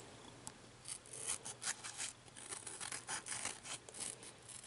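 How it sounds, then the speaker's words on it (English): Scissors trim around a vinyl lettering decal laid on a wine glass, giving a string of close, crisp snips and light scraping cuts in an uneven rhythm with short pauses. No voices. "So I'm going to trim around it."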